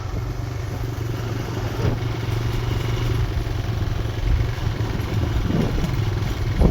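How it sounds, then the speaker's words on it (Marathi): A Bajaj Platina motorcycle rides slowly along a green hill road near a waterfall, its engine a steady low hum with light rattling, close and continuous, without talk. "त्याच्याकडे प्लॅटिना गाडी आहे आणि त्या गाडीला मागं पुढे गिअर आहे"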